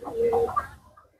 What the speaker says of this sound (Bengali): এলা আমাদের হিমেল ভাইয়ের কবুতর, কি সুন্দর ডাকতেছে, মাশাআল্লাহ।